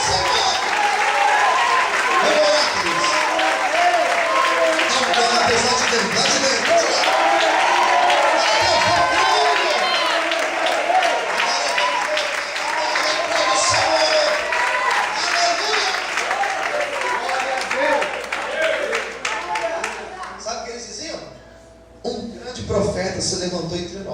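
Church congregation applauding with cheers and whoops, a dense, loud, sustained wash of clapping that thins and fades toward the end.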